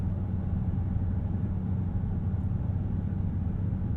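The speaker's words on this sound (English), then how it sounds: "the Hemi V8 is almost subdued. The supercharger whine, gently just whistling in" Inside a Dodge Challenger SRT Jailbreak with its supercharged Hemi V8 at gentle throttle, a steady, subdued low rumble droning evenly without changes in pace and no voices over it.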